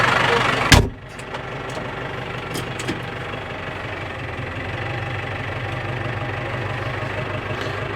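A Case tractor engine idles steadily in a barn, a low continuous knocking rumble after a brief loud burst at the start, close and even throughout.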